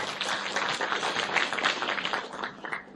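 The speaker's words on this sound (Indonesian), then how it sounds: "Tepuk tangan buat TNC." Crowd applause for TNC at a marketing seminar, a steady dense patter of many hands clapping for about three seconds at moderate distance, fairly faint and without speech.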